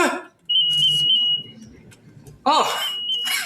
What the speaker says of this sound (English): False alarm. It's just my new pager.